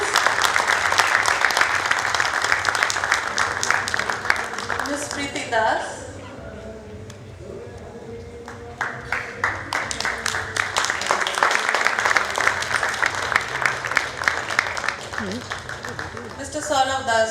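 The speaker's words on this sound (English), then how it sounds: "Can we have a round of applause" Applause from the audience at an HR round table in Kolkata, broad and sustained, dipping briefly in the middle before swelling again, with a speaker's voice announcing names over it.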